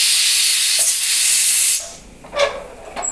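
A pressure cooker of greens on the stove blasts a loud, steady hiss of steam for nearly two seconds, then cuts off, leaving a couple of faint, brief puffs and quieter kitchen sounds.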